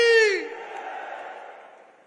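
A large crowd at the closing ceremony of a state livestock exhibition roars a single loud 'jai' in answer to a chant. The massed voices peak sharply at once, then fade into a long, decaying murmur.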